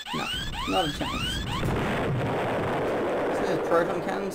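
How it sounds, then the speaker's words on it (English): Proton cannons fire in the space combat game Escape Velocity: Override, a rapid volley of zapping sweeps followed by a sustained, noisy rumble of explosions, loud and close. "So there's proton cannons and just rip these little ships to pieces."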